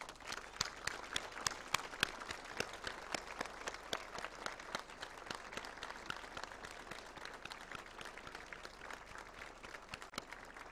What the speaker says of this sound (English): 30 seconds of a clap to Professor Adwal.